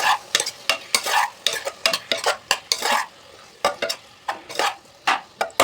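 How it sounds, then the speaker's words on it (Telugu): Tomatoes are stirred into a frying paneer curry, a spoon scraping and knocking the pan in quick, uneven strokes over a faint sizzle, fairly loud and close. "టమాటో వేసాను కదా, మొత్తం కలిపేసుకోండి."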